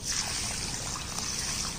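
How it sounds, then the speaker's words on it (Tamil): Water is poured steadily over pearl millet and urad dal in a bowl to soak, giving a soft, continuous trickling splash close by, brief and even. "இதை இப்போ தண்ணி ஊற்றி 4 மணி நேரம் ஊற வச்சுருவோம்."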